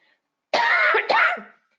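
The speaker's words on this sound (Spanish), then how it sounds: "Me van a disculpar la tos, pero es la contaminación." A single close, harsh cough in two quick bursts, loud against otherwise silent surroundings.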